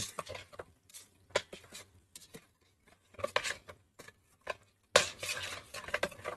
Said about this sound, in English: Now we just mix all of this together to make the meat sauce